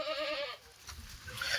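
A Kathiawadi goat at a goat market gives one wavering bleat at the start, faint and somewhat distant, followed by quiet background rustle and a soft higher cry near the end.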